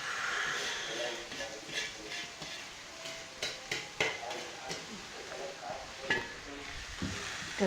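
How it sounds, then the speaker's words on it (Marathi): Chopped leafy vegetables (chandan batava, chickpea and mustard leaves) with turmeric, chilli and asafoetida sizzle in a wok, with repeated scraping stirs and spatula knocks, close and fairly quiet. "तर हे बघा, ही मी सगळी आता कढईमध्ये घालून घेतली आहे भाजी"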